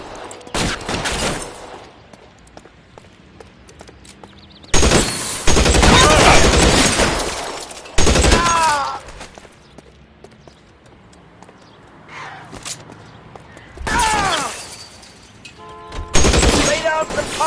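Loud bursts of gunfire ring out in a shootout in the video game L.A. Noire, separated by shouted voices and quieter gaps, with several blasts repeating across the scene.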